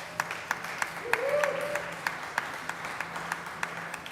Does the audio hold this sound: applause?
yes